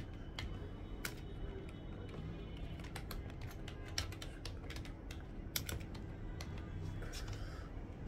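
Someone types an email address on a computer keyboard, producing quiet irregular key clicks in quick bursts over a low room hum, close but faint, no voices.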